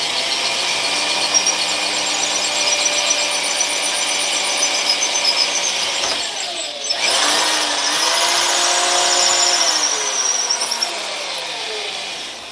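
An electric drill bores into a block of wood with a long bit that is not threaded all the way up its shaft. It whines loudly and steadily, pauses briefly midway, then resumes at a slightly different pitch.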